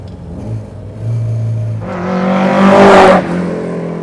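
A 1966 Alfa Romeo GTA Corsa engine idles low, then revs up hard and loud, its raspy roar climbing and holding for over a second before dropping back to a burbling idle.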